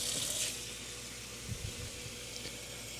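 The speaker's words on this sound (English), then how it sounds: "we're gonna fill this up with water" Tap water runs into a bowl of cut potatoes and lemons, a soft, steady splashing pour heard close by with faint clinks and no talk.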